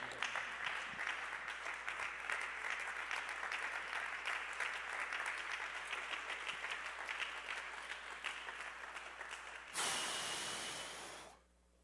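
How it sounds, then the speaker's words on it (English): A church congregation stands and claps their hands, a dense, lively wash of applause from many people that goes on steadily before cutting to a short hiss near the end. "Everybody stand and clap your hands."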